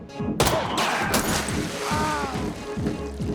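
A gunshot rings out in the video game Hidden Agenda, a sharp broadband crack near the start amid tense game score and ambient noise that continue afterward.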